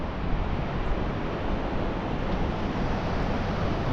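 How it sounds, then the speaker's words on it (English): Waves from a passing boat's wake wash in along the River Mersey shore, a steady broadband rush of surf mixed with wind noise, continuous and fairly close, with no talking. "Our boat's just gone past, you can see the waves coming in."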